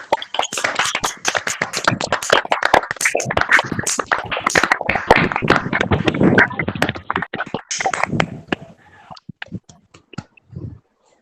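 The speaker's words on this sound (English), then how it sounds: "Everyone, please on your mic and clap." Online meeting participants clap with their microphones on, a bursty mix of overlapping claps from several people at a farewell gathering, sharp and close, thinning to a few isolated claps near the end.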